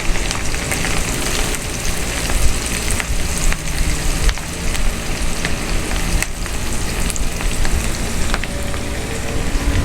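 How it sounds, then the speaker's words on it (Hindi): Chopped onions frying in a pan for a gobi chicken dish, browning toward golden: a loud, continuous crackling sizzle with scattered pops and occasional stirring, close by and with no voices. "चॉप की हुई प्याज डालेंगे। और इसको गोल्डन ब्राउन करेंगे।"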